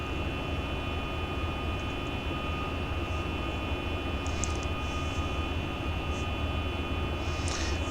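Steady, loud engine drone from a Boeing 737 MAX 8 in a flight simulator, a continuous broadband roar with a faint high whine, unchanging throughout.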